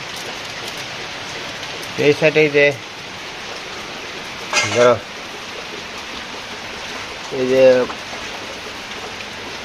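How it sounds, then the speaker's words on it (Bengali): Heavy rain pours down in a dense, continuous hiss, loud and close, while a few brief bursts of speech rise over it. "বলতে না বলতে দেখেন বৃষ্টি এসে গেছে গা।"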